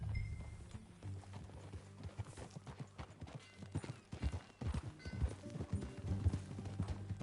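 Horse hoofbeats from riding in the video game Red Dead Redemption 2, a steady clip-clop gait heard close and moderately loud, with faint background sounds and no talking.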